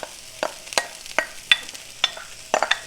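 A spoon stirs brown rice in a warming pan, making a run of close, sharp scraping and clinking strokes at an irregular rhythm over a faint sizzle.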